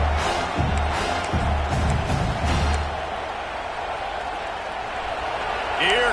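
A home stadium crowd at a football game roars in a broad, sustained wash of cheering as the defense faces third down, swelling early and then holding steady, with a commentator talking over it.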